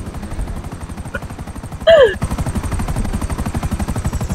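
A stolen helicopter hovers over a city neighbourhood in a video game. Its rotor chops steadily and rapidly throughout, with a brief whistling chirp partway through.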